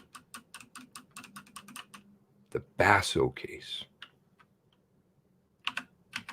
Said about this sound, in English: while I'm typing extra slow because of my awesome tech skills